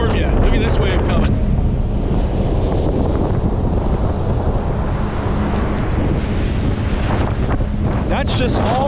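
Roaring wind from Hurricane Nicole buffets the microphone over heavy surging storm-surge water, a constant loud rush with crashing surf building and breaking throughout.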